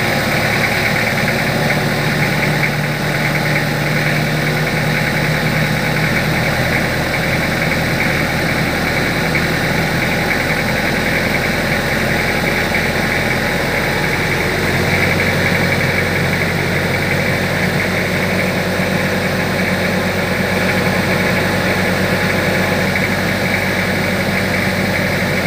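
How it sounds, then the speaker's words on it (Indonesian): Car engine held at raised revs with the gas pedal pressed while checking a cylinder head that still leaks, a loud, constant droning hum lasting throughout with no distinct rev swells. "Ini RPM kita naikkan ya, kita tekan pedal gas"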